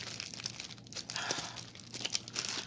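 A plastic packaging bag from a diamond painting kit crinkles and rustles as hands work it, giving irregular crisp crackles and soft tearing scrunches at close range, with no talking.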